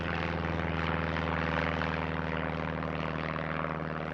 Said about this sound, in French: Guillaumet démarre donc son Potez 25